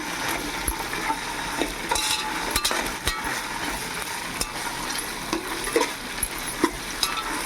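Masala paste fries and sizzles in a pan, a continuous close hiss broken by frequent metallic scrapes and clinks as a spoon stirs it.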